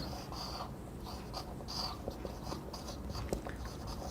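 Chalk or marker scratching across a board during a physics lecture on electrostatics, in short repeated strokes and taps, faint and close in a quiet room.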